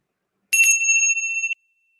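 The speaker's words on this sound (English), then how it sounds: "In a moment, I'll ring the bell." A single bright bell rings clearly, its metallic tone sustaining for about a second before cutting off, with silence before and after.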